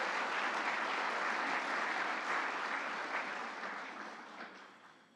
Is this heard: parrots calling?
no